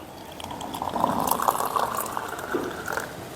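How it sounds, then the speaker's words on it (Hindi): Water is poured into a glass in a kitchen with a steady, bubbly filling gurgle that swells midway and tapers off, with no voices. "और इसमें पानी आपने गिलास में भर दिया।"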